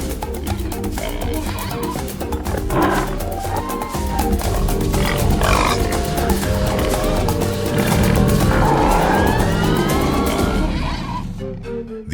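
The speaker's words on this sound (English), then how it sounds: "An unsuspecting herd of wild pigs stands just ahead." A herd of wild pigs grunts and squeals amid a dense, loud wash of animal sounds, with overlapping snorts rising and falling throughout.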